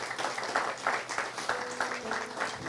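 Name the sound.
church congregation applause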